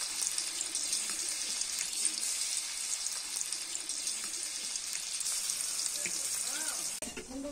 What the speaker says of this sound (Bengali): ভাজার জন্য মাছগুলো দিচ্ছি।